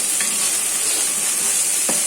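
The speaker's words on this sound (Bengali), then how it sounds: "আদা ভাজা ভাজা হয়ে গেছে।" Ginger paste sizzles steadily in a hot pan, with a couple of soft scraping strokes of a spoon stirring it through the brief, constant frying hiss.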